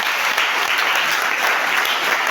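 Church congregation applauding for Jesus, a dense, steady wash of clapping with some cheering that fills the room without a break.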